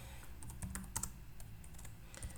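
Light, irregular keystrokes tap on a computer keyboard while a C++ program is entered, faint and close, with no talk.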